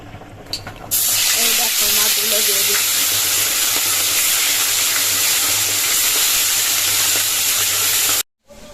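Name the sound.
fish frying in hot oil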